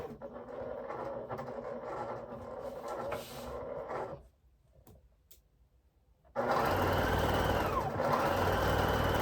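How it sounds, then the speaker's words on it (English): A sewing machine stitches down a fabric panel with a steady mechanical whir. It stops for a quiet pause of about two seconds, then resumes louder and close. "And we are going to sew these right down."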